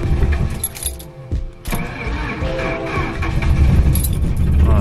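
A Mercury Marauder engine cranks over hard and struggles to start, puffing white smoke. The churning is loud and close, continuous apart from a brief dip, then grows heavier toward the end.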